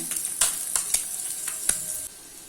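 Eggs frying on a tawa over a medium flame, a crackling sizzle with scattered sharp pops and spits that suddenly drops to a quieter hiss near the end.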